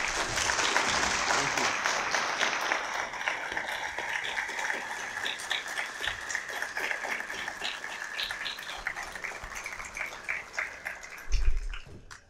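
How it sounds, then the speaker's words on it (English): A debate audience applauds at the close of a debate on traditional Islam, steady crowd clapping that carries on for several seconds and thins out gradually, with a loud thump near the end. "So everyone, a round of applause for Lars Gule."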